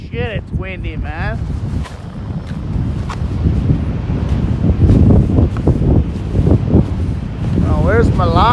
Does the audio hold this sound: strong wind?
yes